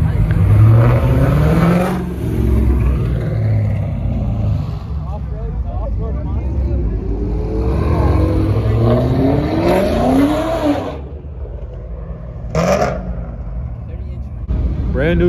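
Jeep Trackhawk engines rev and rumble nearby, deep throaty surges rising and falling with a few sharp bursts, while people talk loudly over the sound almost the whole time.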